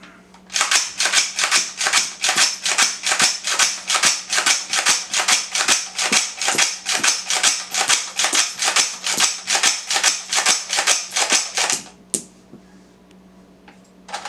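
An AR-15 rifle chambered in 7.62x39 fires a full magazine in a long, evenly spaced string of loud, sharp shots, roughly three per second for about eleven seconds, then stops.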